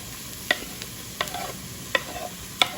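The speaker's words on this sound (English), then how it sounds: "And let's add our garlic too." Garlic fries with onions and mushrooms in a pan, a soft sizzle under four sharp utensil clinks from stirring spaced about every second.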